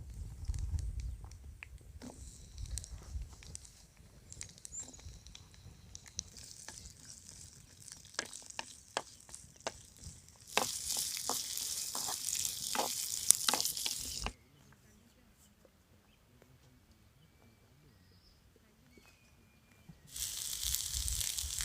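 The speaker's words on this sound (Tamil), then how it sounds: "குழம்புக்கு தேவையான மசாலாவுக்கு வறுத்துக்கலாங்க" Ginger, garlic and onion frying in a little oil for a masala base, a steady close sizzle with stirring scrapes, growing louder and hissier in bursts before cutting out briefly and returning.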